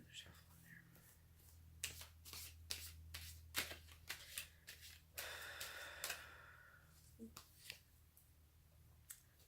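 A deck of tarot cards riffled and shuffled in several quick bursts with scattered snaps, close by, with soft breathy voice sounds between.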